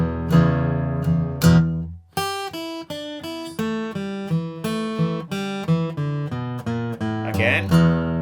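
Slow open E blues licks on guitar: a few ringing low notes, then a run of distinct plucked single notes and bends at a relaxed, steady pace, close and clear with no talking.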